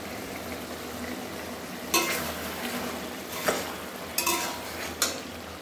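Taro stolons (kochur loti) cook in a pan over a low, steady sizzle, with four sharp spatula scrapes and stirs at intervals, close up and with no talking.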